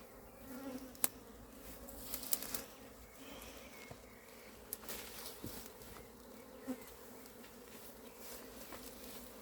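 A swarm of honeybees hums faintly and continuously at Varennes-sur-Seine during a swarm capture, a soft layered drone with occasional closer buzzing passes.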